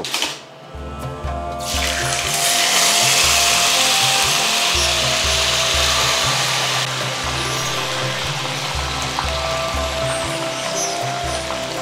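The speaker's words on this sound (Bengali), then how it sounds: "তেল গরম হয়ে গেছে, এবার এতে ঢেলে দেব আগে থেকে মেখে রাখা মাংস।" Marinated mutton for a Gandharaji mutton curry goes into hot oil, and a loud, steady, broad sizzling hiss starts about a second in and holds to the end over a rhythmic low background beat.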